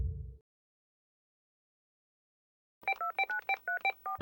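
A short low rumble, then after a long silence a rapid run of about ten keypad dialing tones, clear and close, each a brief two-note beep.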